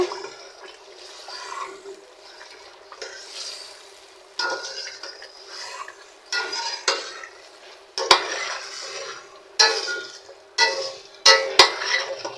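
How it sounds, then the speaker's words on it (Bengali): Meat browns in a covered pot while a spoon stirs and scrapes, bursts of sizzling and clanking metal coming in irregular bursts over a soft background hiss, growing busier toward the end. "ঢেকে দিয়ে মাংসটাকে ভালো করে কষায় নিব"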